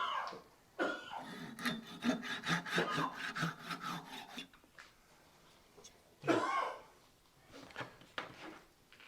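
A saw cuts through the wooden trunk of a turned Christmas tree with quick rhythmic back-and-forth strokes for several seconds, then pauses, followed by a short burst of scraping and a few scattered knocks.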